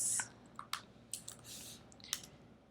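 A few scattered keystrokes on a computer keyboard while filling out a sale contract form, close and fairly quiet sharp clicks spaced irregularly over a soft background hiss.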